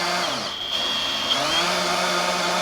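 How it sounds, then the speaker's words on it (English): A cordless drill drives a small winch to crank a lakeside dock level, giving a steady, loud, continuous motor whine with a slight pitch shift partway through and no talking. "This year we got this little drill powered winch and man, this makes it so easy."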